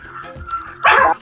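A small dog gives a sharp, close yip-bark near the end, loud against a quieter indoor background.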